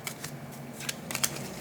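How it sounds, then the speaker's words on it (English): A deck of cards for the GATE card game is shuffled up close in a quick series of crisp riffling bursts, with no talking. "And we will shuffle up our much larger deck"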